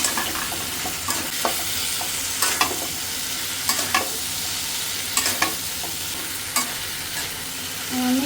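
A vegetable curry with ground spices sizzles loudly in a pan while a spoon stirs and scrapes it in regular strokes, close and continuous.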